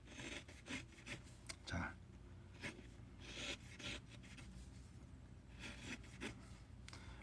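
Knife shaving and rounding a wooden trout fishing float by hand, a run of short dry scraping rasps at close range with brief pauses, someone speaking briefly over the carving.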